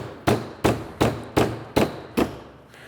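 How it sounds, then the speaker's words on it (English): Six sharp hammer taps in an even rhythm tapping a Skyjacker Hydro 7000 shock into place, each a crisp knock with a short ringing tail, close and fairly loud. "I'll just take a hammer and tap it in there the rest of the way."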